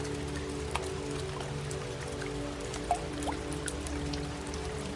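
Soft, steady rain patters with scattered individual drops ticking close by over a low constant hiss.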